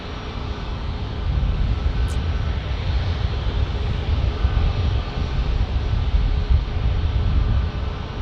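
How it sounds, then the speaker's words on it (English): An American Airlines airliner on arrival at San Diego airport, arriving from Philadelphia, gives a steady, loud broadband engine roar that holds at an even level for the whole stretch, with no voices over it. "American Airlines from Philly coming in after the two Air Canadas"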